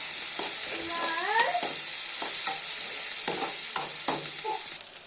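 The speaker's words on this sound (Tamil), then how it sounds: "இது நல்லா வதங்கணும் வதங்கட்டும்" Onions and spices for mutton pepper curry sizzle steadily in a hot pan, with a few scraping stirs of a utensil over the constant frying hiss.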